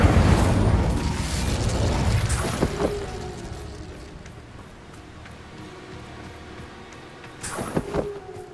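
Fiery whoosh of the Incendio spell in the Hogwarts Legacy video game, a loud roaring burst at the start that fades into a rumbling tail, with a few crackling accents and another flare near the end.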